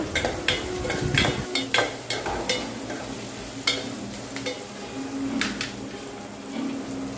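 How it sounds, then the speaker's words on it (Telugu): Onions and green chillies are stirred in a frying pan for a village-style drumstick and chana dal curry: repeated sharp scrapes and clacks of a spoon against the pan over a continuous close sizzle, with no talking. "ఉల్లిపాయ పచ్చిమిర్చి కలుపుకోవాలి"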